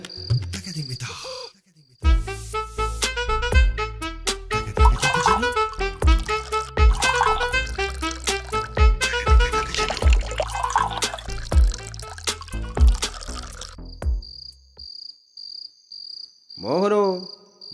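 Toddy pours from a bottle into a glass in a steady run of rhythmic glugs and bubbling splashes lasting over ten seconds, then stops, followed by a brief rising sound.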